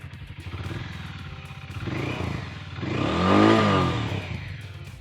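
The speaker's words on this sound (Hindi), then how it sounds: "तो एक काफ़ी थ्रोटी स्पोर्टी एग्जॉस्ट है इस मोटरसाइकिल का" A Hero Mavrick 440 motorcycle's exhaust rumbles at idle, then revs twice, the second rev climbing higher and louder before settling back, heard close with no talking.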